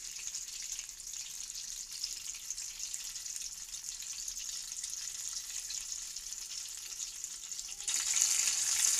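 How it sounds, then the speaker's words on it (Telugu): Poha bajji fry in hot oil with a steady, fine crackling sizzle, moderately close and constant, growing a little louder near the end with no talking. "వీటిని రెండు వైపులా దోరగా వేయించుకోవాలి."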